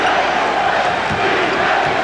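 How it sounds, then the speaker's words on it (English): Capacity crowd at a 1994 NBA Finals game between the Knicks and Rockets chanting for defense, a loud steady roar filling the arena. "Chant of defense from this capacity crowd."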